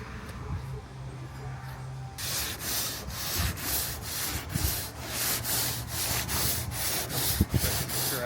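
Sandpaper rubbed back and forth by hand over a surface in a garage, steady rhythmic rasping strokes, close up, starting faintly then growing brighter and continuous.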